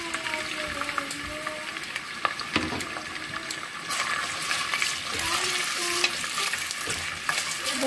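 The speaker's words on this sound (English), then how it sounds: "I will put the liver and the gizzard together. Before I fry those ones." Chicken liver and gizzard fry in hot oil in a pan for fried rice. A steady close crackling sizzle runs throughout, with scattered sharp pops and a faint voice in the background.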